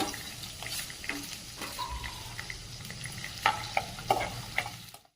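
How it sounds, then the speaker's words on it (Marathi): Chopped onion and curry leaves saute in a pan for a spicy misal, a soft continuous sizzle broken by scraping stirs and a few sharper clinks near the end, quiet and close. "या कढीपत्ता, बारीक चिरलेला कांदा, कांदा व्यवस्थित परतून घ्यायचा"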